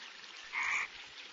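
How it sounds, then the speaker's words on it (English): Male frogs croak during the monsoon breeding season, a single distinct burst of rapid rasping calls rising over a steady hiss of night-time ambience. "These sounds are made by male frogs to attract females as it's their breeding season."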